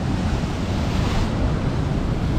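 Steady rushing surf of waves washing onto a shore, continuous and fairly loud, with wind noise buffeting the microphone.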